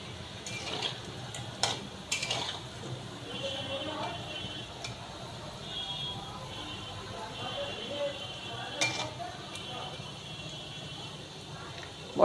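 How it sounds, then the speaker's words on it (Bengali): Fish roe fritters with chopped onion, green chili, salt and turmeric frying in a pan, a low continuous sizzle with occasional clinks and scrapes of utensils, close and fairly quiet. "লঙ্কা কুচি, একটু পেঁয়াজ কুচি, লবণ, হলুদ আর মাছের ডিম, এগুলো দিয়ে আমি বড়া ভাজছি"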